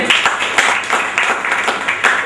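An audience at a product promotion talk in Hinganghat claps together in a steady, fairly loud patter of many hands lasting a couple of seconds, with no voices over it.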